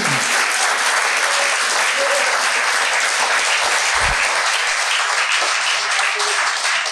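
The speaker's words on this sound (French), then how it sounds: "On vous applaudit parce que c'est fondamental." Audience applause at a talk on threats to democracy: sustained, dense clapping from a large hall crowd, loud and even from start to finish, with a brief low thump partway through.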